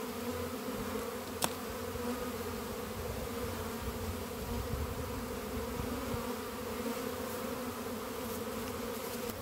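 Honey bees buzzing steadily around a hive during a transfer from a nucleus box to a full hive, a dense constant drone filling the whole stretch with one brief sharp click early on.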